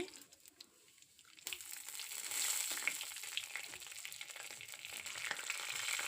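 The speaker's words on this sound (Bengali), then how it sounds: "কড়া গরম হয়ে এসেছে তেলের মধ্যে আমি গোটা জিরে দিয়ে দিলাম তেজপাতা দিয়ে দিচ্ছি" Whole cumin seeds and bay leaves drop into very hot oil in a kadai and sizzle steadily, a soft start giving way to a bright, sustained crackling hiss that continues to the end.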